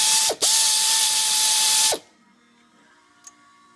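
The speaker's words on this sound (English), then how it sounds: "We can just get our handy dandy air tool. And we're going to take those ones out." An air tool loosening intake manifold bolts on a 2006 Dodge Caravan 3.3L, a loud close whirring rattle that stops briefly, restarts and runs for about two seconds, then cuts off to near quiet with a small click.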